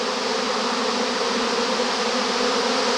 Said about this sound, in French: il y a plein d'abeilles qui se posent